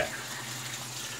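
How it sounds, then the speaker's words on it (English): Running water from a tap splashing steadily into a sink or basin while wetting a shave stick for lather, a continuous close hiss alone for a moment. "I'm gonna throw a little more water in there."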